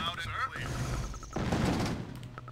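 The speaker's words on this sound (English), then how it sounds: "Shotgun blast." A shotgun blast in the game Command and Conquer: Tiberian Sun: a dense, crackling burst of noise that swells midway and then fades, over game sounds with a voice at the start.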